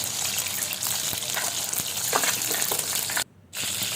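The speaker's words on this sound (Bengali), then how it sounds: "মাছগুলোকে উল্টে পাল্টে আমি ভেজে নিচ্ছি।" Fish frying in hot soybean oil while being turned over, a loud steady hiss and crackle that briefly drops out before resuming.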